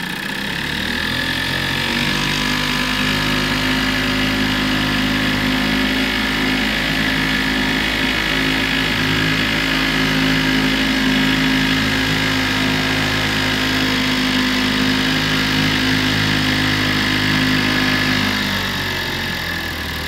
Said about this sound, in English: Not terribly fast, but it runs good. Starts right up, idles right down.